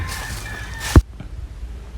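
Chickens at a roadside stop near Phanom Rung stone castle in Thailand, with a raspy crowing call followed by a short clucking note, fairly close and clear against a low outdoor background.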